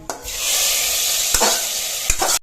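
Reddish fried ginger paste goes into a cooking pot for parboiled-rice khichuri and sizzles loudly and close, with stirring scrapes and a few sharp clanks over a steady frying hiss.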